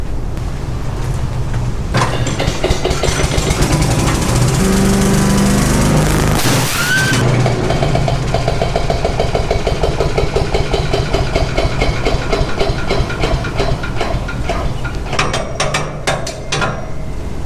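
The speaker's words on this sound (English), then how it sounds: "We completely forgot about the wood chipper, didn't we?" Wood chipper running loud and steady, a continuous heavy engine drone with grinding, rattling texture and a brief sharper crunch partway through, no talking.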